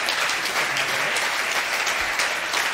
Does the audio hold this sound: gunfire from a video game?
no